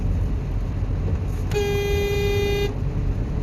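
A single car horn honks once for about a second during off-road driving training, a clear steady toot over the low rumble of a running vehicle.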